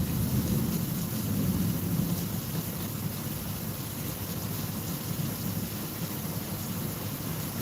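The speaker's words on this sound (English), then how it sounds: "these storms can get nuts" A thunderstorm pours heavy rain in a dense, steady hiss, with low thunder rumbling underneath throughout, a broad enveloping wash of sound and no voices.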